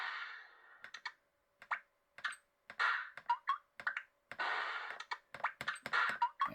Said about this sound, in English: change the sound effects or rotate through them all if you really wanted these typing sounds